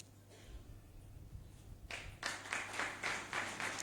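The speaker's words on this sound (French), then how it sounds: "merci pour vos applaudissements" Audience applause breaks out at a French cybersecurity panel event as a guest speaker is invited to the stage, starting faintly and swelling into steady, fairly close clapping from a room full of people.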